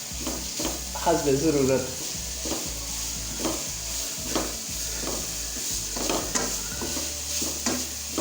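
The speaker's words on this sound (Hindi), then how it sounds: "अभी हम इसके अंदर थोड़ा सा ऑयल ऐड करेंगे और फिर इसको हम अच्छे से फ्राई करेंगे।" Radish pieces frying in oil while being stirred, a continuous sizzle with repeated scraping and clinking strokes of a spoon against the pan, and a voice speaking briefly early on.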